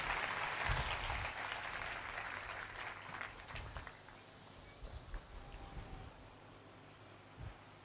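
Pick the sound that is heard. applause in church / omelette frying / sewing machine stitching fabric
applause in church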